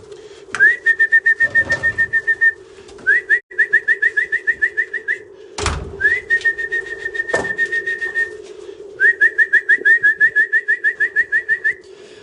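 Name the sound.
pigeons cooing in a loft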